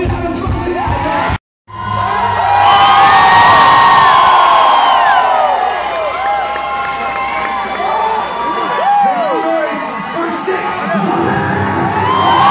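A concert crowd at a show in Corpus screams and cheers loudly and without a break, with whoops and yells over a dense roar. The noise cuts out for a moment early on, then swells back.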